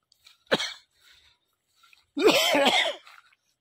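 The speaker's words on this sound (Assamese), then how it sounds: "কাহ আহিছে কুঁৱলী খাইছোঁ যে সেইকাৰণে কাহ আহি গৈছে" A person coughing outdoors in morning fog, one sharp short cough followed after a pause by a longer rough throat-clearing cough, close and otherwise quiet.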